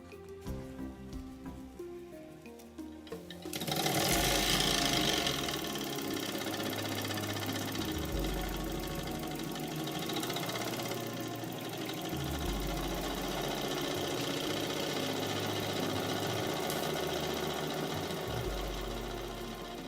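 A small model piston engine runs steadily, its valve-controlled piston turning a flywheel with a continuous whirring, rhythmic mechanical rattle that starts abruptly after a quiet opening and holds close and loud throughout.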